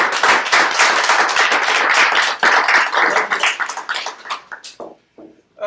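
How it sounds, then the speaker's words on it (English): Audience applause at an open board meeting, brisk clapping from a roomful of people that holds steady and then thins out to a few scattered claps before stopping. "And I think Jeff gets an applause."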